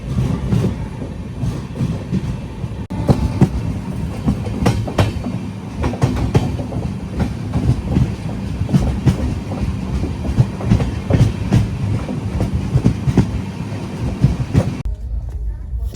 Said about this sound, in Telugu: ఆ ట్రైన్ బయలుదేరిపోయింది.